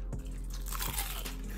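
Someone bites into crunchy fried food topped with gravy, giving a few sharp close crunches with chewing between them, no talking.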